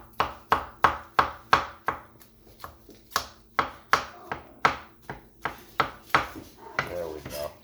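A knife chops mushrooms on a cutting board in steady, sharp, close knocks, about two per second, slowing and loosening toward the end.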